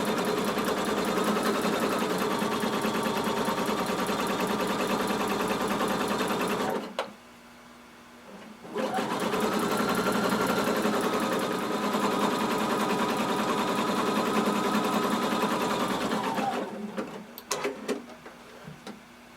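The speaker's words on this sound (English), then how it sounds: "We're going to use a zigzag stitch to sew the entire swimsuit together." A sewing machine runs a zigzag stitch through swimsuit fabric, humming steadily for two long runs with a brief stop between them and a slowing near the end.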